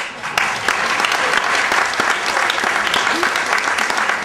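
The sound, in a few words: audience applause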